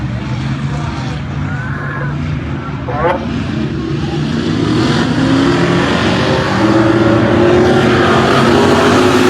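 Late model race cars roar around the dirt oval at Enid Speedway, a loud, continuous mass of engine noise that swells and builds toward the end.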